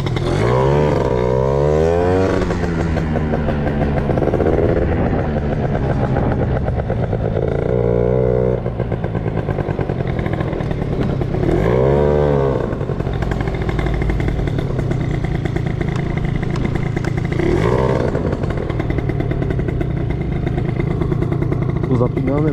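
A 2000 Italjet Dragster two-stroke scooter starts and revs loudly up close. Its engine rises and falls in repeated sweeps while people talk over it.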